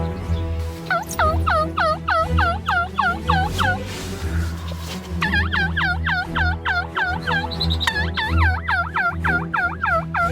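A wild turkey tom gobbles repeatedly during a spring hunt, loud close rattling bursts of rapid gobbles in several runs separated by short pauses, with a low steady background hum throughout.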